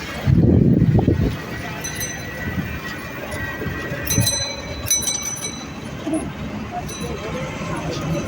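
A train crosses a railway bridge over the Rupsa River in Khulna with a rolling, rhythmic clatter of wheels and occasional metallic squeals. A louder rumble opens the passage, then the steady noise carries on nearby.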